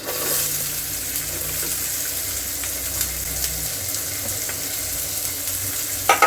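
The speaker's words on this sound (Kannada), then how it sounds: "ಇವಾಗ ಇದಕ್ಕೆ ಈರುಳ್ಳಿ ಹಾಕೊತಾ ಇದ್ದೀನಿ." Onions fry in a pan of masala for a mushroom gravy, giving a constant close sizzle and hiss with a couple of brief clacks at the very end.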